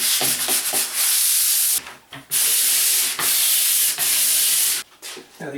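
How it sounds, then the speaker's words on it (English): Close, scratchy strokes of 120-grit sandpaper rubbing wood by hand, long back-and-forth passes broken by a few short pauses. "I'm just going to give it a light sanding. This is a 120 grit sandpaper"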